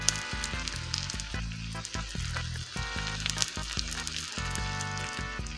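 An egg foams and sizzles in a hot frying pan, a steady crackling fry with small pops, close and fairly quiet, with no voices over it.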